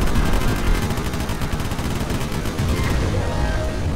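Dense, continuous gunfire in the Sly 3 video game, rapid bursts of shots running together into a steady loud barrage for the whole stretch with no pause.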